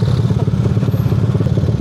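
Motorcycle engine idling close by, a steady, loud, rapid low thumping pulse with a faint clattering rattle over it, after a ride in the heat.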